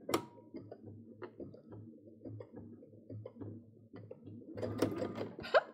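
Sewing machine basting stitches on a wristlet, a quiet, slow mechanical ticking and clatter in a regular rhythm, with a few sharper knocks toward the end.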